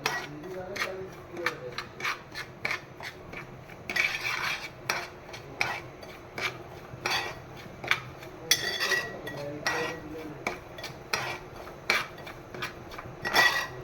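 Semolina roasting in a pan for sheera, a sweet offering, with repeated scraping and stirring strokes of a spoon against the pan, close and steady throughout, with no talking.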